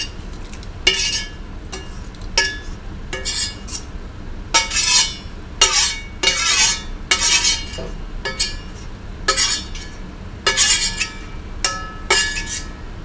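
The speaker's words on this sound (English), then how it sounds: "Add in the onion." A spoon stirs onion into a pot of stew, clinking and scraping against the pot in a steady series of bright taps roughly once per second, close by, with no voices.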